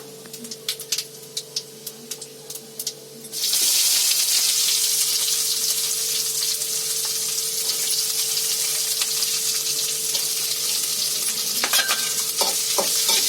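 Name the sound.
onion frying in oil with cumin and curry leaves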